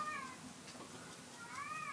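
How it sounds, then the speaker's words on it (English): A stray cat meows outdoors, two drawn-out, rising-and-falling calls at the start and end, moderately close and fairly soft over light background noise. "Oh, there's my cat."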